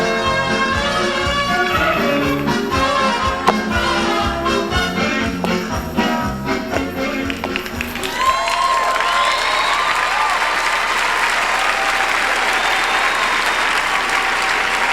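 Audience applause for a professional Latin dance couple at the 1999 US Open ballroom event, first mixed with loud music and then a dense, sustained wash of clapping and some cheering carrying on to the end.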